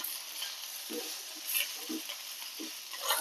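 Steady sizzling of turmeric-dusted vegetables frying in a pan, with several soft scraping stirs at an uneven pace, close by and fairly quiet.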